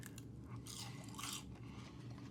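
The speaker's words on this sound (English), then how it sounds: "But the fries are crunchy." Close, quiet crunching of crisp fries being chewed during a meal aboard a cruise ship, several bites in quick succession with no talking.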